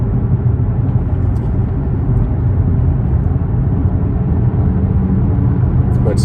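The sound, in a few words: 2008 Infiniti G37S car driving in sixth gear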